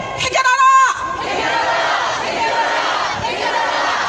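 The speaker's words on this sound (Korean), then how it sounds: "평화의 함성 5초." A protest crowd at a Wednesday rally over Japanese military sexual slavery raises a loud sustained collective shout for peace, starting with a brief chant-like voice then a roaring mass of voices held for several seconds.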